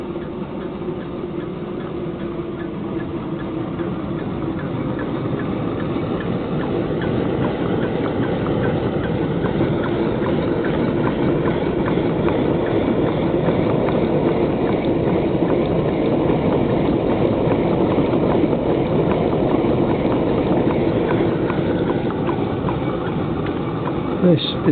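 A homemade freelance Stirling hot air engine built around a Villiers 9E two-stroke crankshaft runs with a steady, even mechanical chuffing and whir, close and constant throughout with a flame-like rush beneath.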